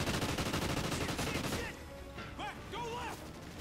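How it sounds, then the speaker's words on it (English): Rapid automatic gunfire rattles in a dense, loud burst for about a second and a half in the Call of Duty: Ghosts mission Sin City, followed by quieter scattered shots and effects. "I'm being shot at"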